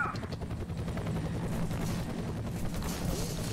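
Rapid bursts of machine gun fire in the video game What is Fear?, crackling over a continuous low helicopter rumble, with faint speech underneath.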